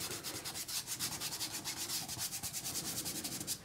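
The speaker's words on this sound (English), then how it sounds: "So I'm going to get my black and just kind of scrape it over." Black acrylic paint being scraped across a canvas in a still life painting, quick rhythmic rasping strokes several per second, close and continuous with no talk.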